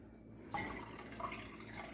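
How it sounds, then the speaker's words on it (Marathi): Water is poured over freshly churned butter to wash it, starting suddenly after a quiet moment and continuing as a soft, close splashing trickle. "थोडं त्यामध्ये पाणी ओतून धुवून घ्यायचं जरा लोणी"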